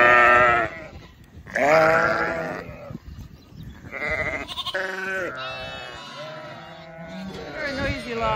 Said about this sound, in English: we're going to move some sheep and lambs around a little bit